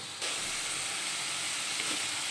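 Food frying on a low flame in a pan gives a steady, even sizzling hiss that starts abruptly and holds at a constant level, with no voices.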